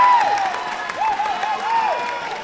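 A crowd cheers and claps at a fencing bout in a hall, moderately loud and rising and falling in bursts, with scattered whoops over a faint background hum.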